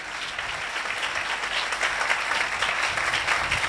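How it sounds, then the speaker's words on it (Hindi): A church congregation at a sermon claps together in a steady, even wash of applause that holds throughout. No one speaks over it. "तालियां बजाकर मुझे बता दीजिए"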